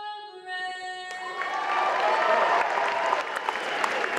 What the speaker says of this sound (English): Round of applause to the young lady on the national anthem.